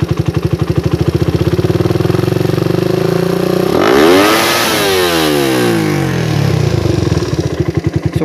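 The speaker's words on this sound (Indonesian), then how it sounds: "Kita tes sekali geber apakah ngelimit atau enggak." A carbureted motorcycle engine is held at a steady high rev, swept sharply up to top RPM and back down, loud and close with no talk over it.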